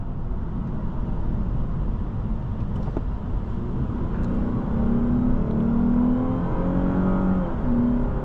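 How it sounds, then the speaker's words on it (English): A 2015 Lexus RC 350 engine runs steadily with a low, continuous drone and rising harmonic whine, as if under light acceleration on the road, loud and alone without talk. "And the engine still sounds very healthy"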